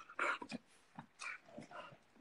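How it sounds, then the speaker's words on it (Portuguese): Dogs outdoors making short yelps, whimpers and barks in uneven bursts, moderately close, with some breathy sounds between. "Do lado de fora, os cachorros estão até perturbando aqui."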